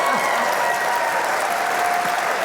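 Steady, dense applause from a large audience at a Charlie's Angels 50th anniversary celebration panel, loud and continuous throughout with a faint voice or two underneath.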